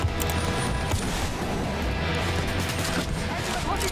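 Dense, rapid gunfire crackles from a PC shooter game running in 4K with ray tracing on an RTX 3060 Ti, the loud bursts packed closely together throughout.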